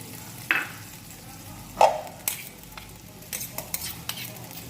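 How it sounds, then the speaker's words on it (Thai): Mushroom curry paste stir-fried with coconut milk in a wok, a low bubbling sizzle with scattered spatula knocks and scrapes, a cluster of quicker clinks near the end. "แล้วก็จะผัดนะครับพริกแกงเห็ดกับตัวกะทิเข้าไปนะครับ"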